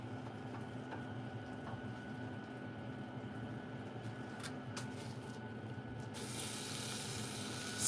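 A ribeye steak sears on a hot grill with a steady, loud hiss and sizzle that runs throughout, with a few faint crackles partway through and a brighter burst of hiss at the end.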